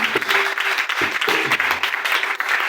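A church congregation claps and cheers in acclamation, dense loud applause with a few faint voices rising through it and brief dips in intensity.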